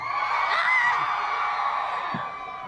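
A convention panel audience yells and whoops together to vote for a contestant, a loud sustained crowd roar that swells and then gradually eases off.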